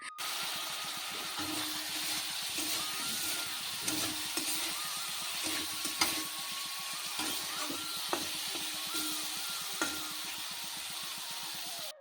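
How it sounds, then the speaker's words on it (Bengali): Potatoes frying in spices with salt and turmeric give a steady close sizzle with repeated scraping stir strokes throughout, and no voices. "মশলার মধ্যে আলুটা আবার ভেজে নিচ্ছি"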